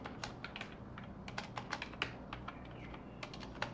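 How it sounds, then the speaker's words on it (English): Rapid, fairly close keystrokes on a sticky computer keyboard, irregular clicks and taps without speech, over a faint steady background hum. "this keyboard is so sticky"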